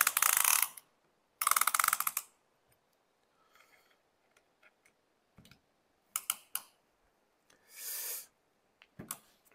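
A ratchet tightens bolts on the 4G15T turbo engine of a Mitsubishi Colt, in several separate bursts of rapid clicking, close and fairly loud, with quiet gaps and faint handling noises between them.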